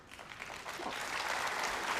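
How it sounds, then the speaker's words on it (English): An audience at a Labour Party speech breaks into applause, the clapping swelling quickly from scattered hands into a dense, sustained ovation that fills the hall. "you should all give yourselves a round of applause"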